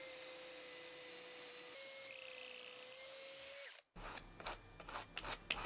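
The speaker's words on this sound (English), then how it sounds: "I think I'm gonna drill some holes so I can put dowels" A power drill whines steadily for several seconds, high-pitched and close, drilling dowel holes in wood, then stops. Clunks and handling noises follow.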